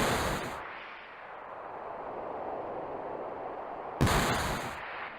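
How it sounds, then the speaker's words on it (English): Gunshots and wind in the video game Final Fantasy VII Rebirth: a steady, loud rushing wind fills the scene, with sharp bright bursts at the start and again near the end, no voices. "The sound of gunshots rings out as the wind whips through the chasm behind him."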